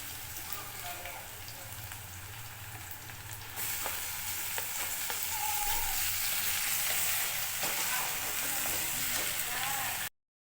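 Chopped onion frying in a pan as tomato goes in, a close steady sizzle that swells louder partway through and carries on with faint crackles, without speech.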